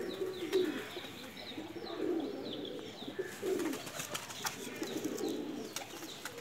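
Soft, repeated cooing from a flying pigeon kept for evening flights, a few rounded low calls rising and falling over the full stretch, with faint chirps and light background noise and no talk.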